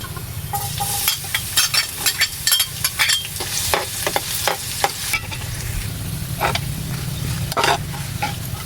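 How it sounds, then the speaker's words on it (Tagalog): Garlic sautés in a hot frying pan as a topping for arroz caldo, a steady close sizzle and crackle broken by repeated scrapes and clinks of a spatula stirring against the pan. "paggisa ng ating bawang no para sa ating toppings mamaya"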